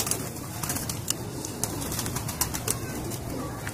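Rampuri pigeons at a pigeon club, soft low cooing mixed with quick bursts of wing flapping, faint and close with a few sharp clicks scattered through.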